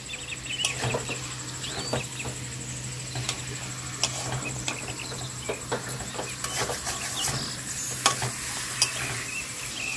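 Chicken kosha, a spiced Bengali chicken dish, is stirred and fried in a pan, giving a soft, steady sizzle with scattered scraping clicks of the spoon and no talk.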